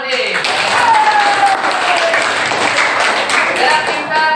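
Steady applause from a group honouring a participant in a coaching session, dense clapping throughout at an even level, with a faint voice or tone faintly underneath.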